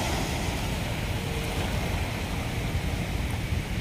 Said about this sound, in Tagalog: Yung ng alon, yung dampi ng alon sa may Dalampasigan.